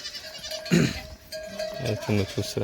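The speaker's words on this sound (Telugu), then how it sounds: "ఈ ప్రతి ఒక్కటి గంట కడతారు కదా తప్పిపోకుండా" Small bells hung around goats' necks clink and jangle close by as the goats move, with a brief bleat and a faint voice in the background.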